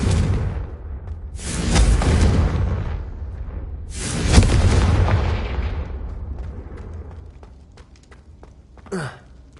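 Two heavy, booming fiery explosions from the Confringo blasting spell in Hogwarts Legacy, each a loud roaring burst that slowly rolls away, followed by a brief faint sound near the end.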